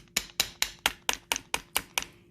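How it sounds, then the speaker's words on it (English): Nine light, evenly spaced taps of a plastic hammer on a small wire ring on a ring mandrel, crisp and close with a steady rhythm. "this is where I take my little plastic hammer"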